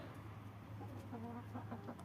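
Chickens clucking in short, rising calls at a poultry sale, moderately close over a steady low hum, with clucks repeating through the second half.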